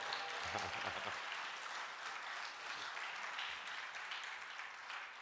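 An audience at an opening session claps steadily for about five seconds, a dense, even wash of hands with a few brief voices near the start.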